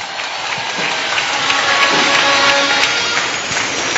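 A church congregation claps for the Lord during a live sermon in Swahili, giving a steady, dense wash of clapping from a crowd with faint voices mixed in.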